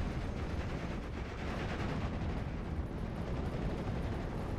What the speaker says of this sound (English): Looks like we've got some smoke coming on in from the pack howitzers, as well as some regular barrages.